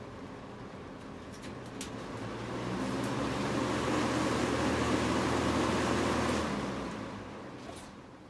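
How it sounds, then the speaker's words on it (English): Vintage Lasko box fan with a plastic Marco motor winding down, a broad airy whoosh with a low hum that swells, holds steady, then fades as the blades slow, with no voices. "not a bad spin down for a Marco plastic motor"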